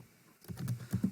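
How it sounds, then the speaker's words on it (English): A few quick taps on a computer keyboard while editing an email design, close and faint, starting after a brief quiet moment. "And say I can begin typing here on the right"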